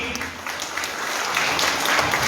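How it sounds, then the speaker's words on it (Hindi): Loud crowd applause at a wedding ring ceremony, a dense continuous wash of clapping from many guests that builds slightly over a couple of seconds. "एक बार जोरदार तालियां सभी के जोरदार तालियां, जोरदार आवाज है। तालियों की।"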